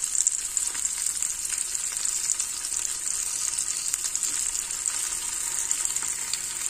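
Steady crackling sizzle of food frying in a hot pan, close and continuous with fine spattering pops throughout.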